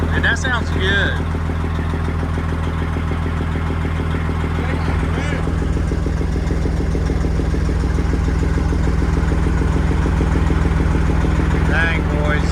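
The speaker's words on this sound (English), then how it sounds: "That's the way a truck's supposed to sound." A truck idles with a newly fitted straight-pipe exhaust, a loud, deep, steady rumble with a rough pulsing beat, while people talk over it near the vehicle.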